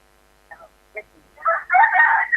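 A rooster crows in a rural Thai setting, a couple of short faint calls first, then a louder drawn-out crow at moderate distance against an otherwise quiet background.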